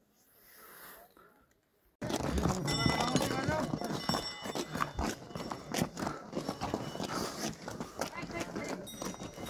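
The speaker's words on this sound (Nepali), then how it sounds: "त्यहाँ घोडा चढेर आइरहेछ हिँड्न नसकेर।" Horse hooves clip-clop along a rough mountain trail in Manang, Nepal, a busy, uneven run of close steps under loud talking, with a quieter stretch before the steps begin.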